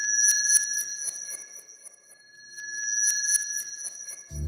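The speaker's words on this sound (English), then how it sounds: "Pitch shifting wind chimes and then running them through a delay unit can help make more of a sparkly metallic wash" Sparkly metallic wash of pitch-shifted wind chimes fed through a delay unit, bright shimmering tones repeating and smearing into sustained high ringing, moderately loud and steady, ending with a brief low thump.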